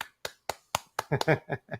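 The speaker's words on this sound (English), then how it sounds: "the audience loved it. Yeah, they're clapping for you." An audience claps for a karaoke singer at a Tuesday-night karaoke session. A few loud, evenly spaced claps come first, then voices cheer and talk over them.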